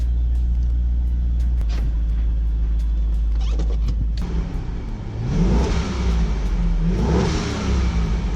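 500HP C5 Corvette V8 with a ProCharger supercharger and no exhaust, idling with a low rumble, then revving twice with a rising whine, close and loud.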